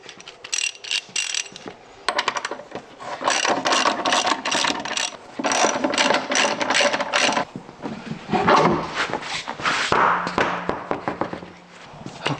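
A wheel lock key turns to release a vehicle's spare tire, giving close metallic ratcheting clicks and grinding mechanism noises in irregular bursts, with faint movement in the background.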